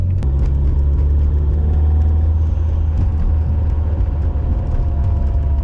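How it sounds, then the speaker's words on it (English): Inside a Mitsubishi Evo rolling at around 20 mph on a cold day, a loud low driveline rumble fills the cabin, with a faint steady tonal howl of gear whine riding beneath the road noise. "But at around 20 miles an hour, I get like a little howl."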